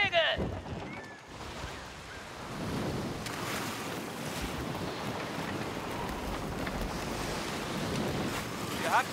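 Sailing ship cutting through ocean waves in the pirate video game Skull and Bones, with a steady rushing wash of water and wind noise running throughout at a fairly loud level.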